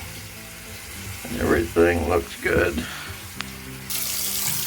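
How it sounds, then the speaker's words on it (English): Cold water starts running from a bathroom sink faucet near the end as a steady close hiss, after a person speaks briefly over faint background noise. "let's run the cold water"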